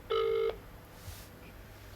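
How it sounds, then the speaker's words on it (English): A telephone gives a single short electronic ring tone, brief and faint, followed by quiet background with no voices and nobody picking up. "No one's answering the phone."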